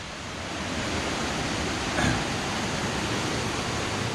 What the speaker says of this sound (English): You can hear some rushing water.